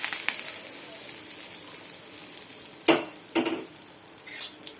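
Tempering is stirred into ridge gourd chutney: a faint background sizzle, then a few sharp spoon clinks and scrapes against the vessel near the end, close by.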